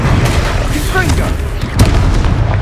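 A Confringo fire-blast spell explodes in the Hogwarts Legacy video game, a booming burst amid dense, continuous battle noise with voices and effects throughout.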